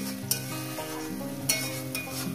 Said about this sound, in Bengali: দিয়ে মিনিমাম এটাকে আমি 2 থেকে 3 মিনিট এটাকে কষিয়ে নেব।